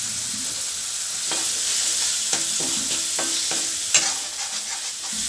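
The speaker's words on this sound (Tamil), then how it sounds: "கொஞ்ச நேரம் மசாலா எண்ணெயில் வதங்கட்டும்." Masala spices and turmeric fry in hot oil with curry leaves, giving a loud, steady hiss of sizzling broken by a few sharp stirring clicks, close by and without any voices.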